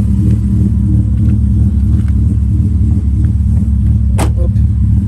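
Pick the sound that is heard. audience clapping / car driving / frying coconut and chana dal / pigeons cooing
car driving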